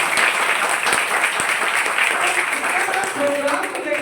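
An audience claps loudly and steadily throughout, a dense continuous applause at a talk or seminar.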